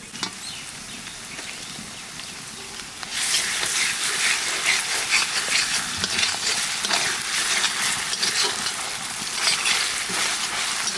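Ginger-garlic paste hits hot oil in a pan and fries with a loud, steady sizzle after a quieter start, close up, with occasional stirring scrapes and no talk.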